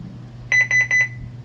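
A DIY car alarm built from an Ademco Honeywell home wireless alarm system gives a short burst of five rapid, close, loud electronic beeps, alone against a faint background hum.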